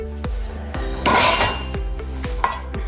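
Ceramic dishes and a bowl knocking and clinking against a dishwasher rack while it is loaded, close and clear, with a scraping rattle midway and several sharp ringing clinks, no voices.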